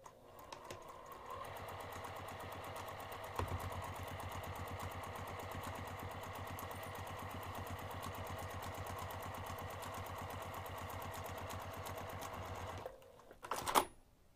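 A sewing machine runs steadily for about twelve seconds, stitching a half-inch seam from the top of the fabric down to a marked line, then stops, followed by a brief clatter.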